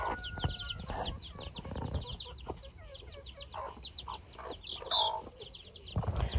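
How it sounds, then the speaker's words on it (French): Hens and their chicks clucking and cheeping on a farm, with repeated close clucks over a busy layer of high chick peeps and other bird chirps, steady throughout with no talking. "les poules, elles se tolèrent assez bien, elles se partagent les poussins"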